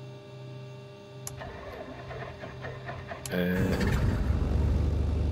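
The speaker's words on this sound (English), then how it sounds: "right side engine, good start. Oil pressure is good." The right-side engine of a simulated aircraft in Microsoft Flight Simulator 2020 spools up. First come clicks and a whirring starter, then it catches and grows into a loud, steady roar. A voice is heard briefly.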